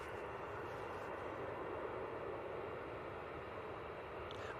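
An EasyJet Airbus A320neo departs from runway 05 left at Manchester Airport, heard as a faint, distant, steady engine rumble with a constant hiss and no voices.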